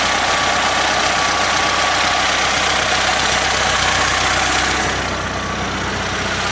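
A small 8.2 engine on a homemade tractor runs continuously close by, a rough, rattling idle that stays loud and steady throughout, easing slightly near the end.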